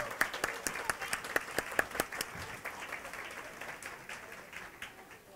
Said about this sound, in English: A round of applause for our Peacock Blue table.